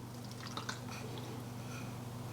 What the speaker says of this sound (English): So let's pour the butter in.